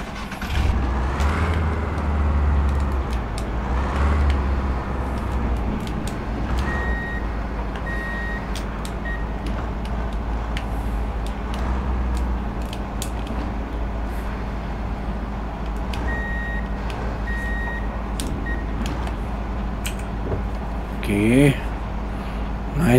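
Scania truck in a truck simulator video game reversing to hitch a trailer, with a steady low engine drone and two short runs of repeating reversing beeps, plus a brief hiss near the end.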